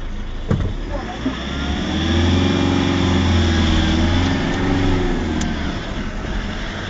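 A vehicle engine runs steadily, its low drone swelling slightly in the middle before settling back to a constant hum.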